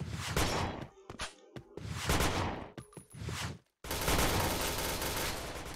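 Sustained bursts of rapid automatic gunfire from the online shooter Point Blank, loud and dense, with rattling volleys, brief gaps and a faint high electronic tone between them.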